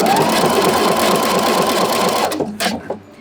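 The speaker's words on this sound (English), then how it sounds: "Now this fabric is pulling through my machine really nice." A sewing machine stitches thrifted blanket fabric, running in a loud, steady close whir for about two seconds before stopping, followed by a few brief clicks and handling sounds.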